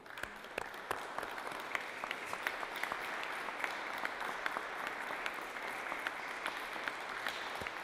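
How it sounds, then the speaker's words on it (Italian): Audience applause at a Christmas concert, a steady wash of many hands clapping with sharp individual claps standing out, fairly faint and distant, continuing throughout without talk. "Facciamo un applauso."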